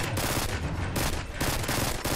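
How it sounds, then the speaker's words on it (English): Automatic gunfire from alien enemies in the video game Livalink, dense and continuous with repeated bursts of rapid shots over roughly two seconds, loud and close, with no speech. "you just hear them shooting and shooting and shooting"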